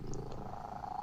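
A pet cat purrs close up in a soft, continuous rumble with no talking.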